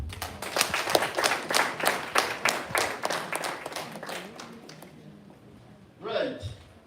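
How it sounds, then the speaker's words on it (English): A crowd at a public health and conservation gathering claps for the mayor of Buhoma Town Council, a burst of many hands in quick rhythmic claps that thins out and fades, followed by a voice speaking. "Can we add him another very big clap?"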